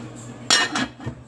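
A metal lid clanks onto a pot of boiling red wine braised pork, a sharp clink followed by a couple of softer rattles as it settles.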